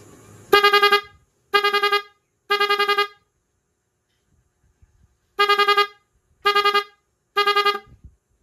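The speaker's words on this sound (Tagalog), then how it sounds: "Ngayon, itest naman natin ito dito sa ating loud horn." A loud car horn on a dual-horn relay setup honks in two sets of three short, sharp blasts with a long silent gap between the sets, close and with nothing else heard.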